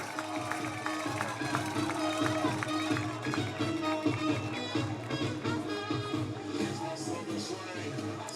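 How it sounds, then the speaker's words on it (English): Home crowd at a college football game, Reinhardt University Eagles against Cumberland University, roaring in a steady, dense wash of cheering with music blaring over it and shouts rising throughout. "the home crowd is fired up."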